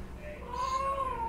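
A human voice imitates a cat, drawing out a high, wavering meow that rises and falls in pitch, close and fairly loud over a low background hum.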